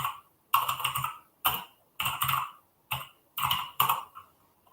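Bursts of typing on a computer keyboard during a hacking session at a meetup: several short clusters of close, crisp key clicks separated by brief pauses, with no talking.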